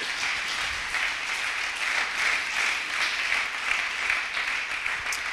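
A church congregation applauding together, dense sustained clapping that holds at an even level throughout, close and fairly loud, with no talk over it.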